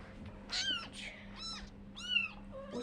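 A cat just waking up gives a few short, rising-and-falling meows, close and fairly soft, spaced about half a second apart against a faint low room hum.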